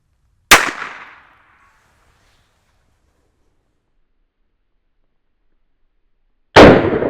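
Two sharp, loud cracks from a tiny .22 short revolver fired into half-inch drywall, about six seconds apart, each followed by a short ringing decay, with silence between.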